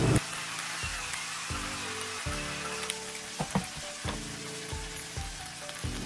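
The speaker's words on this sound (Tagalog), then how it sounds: "isosote lang natin siya hanggang maluto na yung kamatis" Pork sizzles and fries with tomatoes in a hot pan for a sautéed bitter melon dish, a steady crackling hiss broken by several loud stirring scrapes and bursts, close and alone with no talking.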